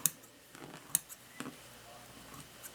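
Scissors snip apart sewn quilt fabric pieces, a few faint, sparse cuts close by with quiet gaps between them.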